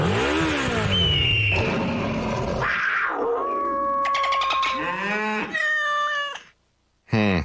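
A voice on a radio show mimics a revving motorcycle with rising and falling whines and sputters, mixed with cat-like yowls, ending in a brief silence and a short burst.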